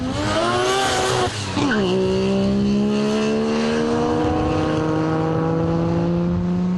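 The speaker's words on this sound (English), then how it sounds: "Craig punted the RX-3 for a few demo laps for us" A Mazda RX-3 race car, limited to 5,000 RPM and about 280 horsepower, does demo laps; the rotary engine revs loudly, dips briefly and then holds a strong, rising drone close by.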